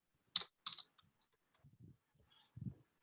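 Keys clatter on an American-layout computer keyboard, a few sharp close clicks followed by quieter, softer key presses spaced unevenly, in a quiet room without speech.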